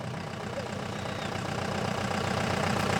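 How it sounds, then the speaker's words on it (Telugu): Decorated parade vehicle at a Republic Day celebration, its engine idling with a steady low rumble and faint knocking, loud and close, alone without talk. "ఈ కార్యక్రమంలో తొలి అంకంగా అలంకరించబడిన వాహనం బయలుదేరింది."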